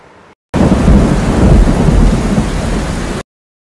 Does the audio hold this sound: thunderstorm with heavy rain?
yes